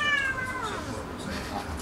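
A frightened cat lets out a single drawn-out meow that bends downward, heard fairly close over a busy, noisy background.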